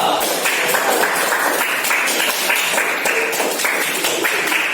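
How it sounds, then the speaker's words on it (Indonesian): A classroom of students claps together in steady, dense applause that fills the room at close range, continuous and fairly loud throughout. "Ya, tepuk tangan dulu."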